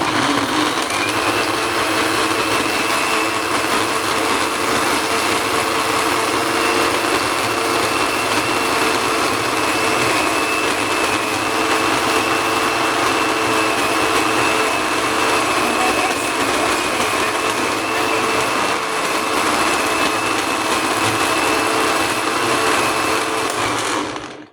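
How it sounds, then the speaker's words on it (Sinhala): A blender whirs through an avocado smoothie, a loud, steady, high-pitched motor drone that holds constant for about twenty-five seconds before cutting off at the end. "නැවතත් අපි මේක දැන් බ්ලෙන්ඩ් කරනවා."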